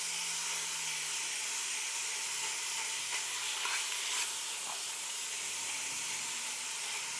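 Meat for a meat sauce sizzles and spits steadily in a pan on an induction stove, a dense, continuous hiss with no talking.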